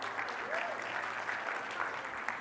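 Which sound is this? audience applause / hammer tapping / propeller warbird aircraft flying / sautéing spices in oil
audience applause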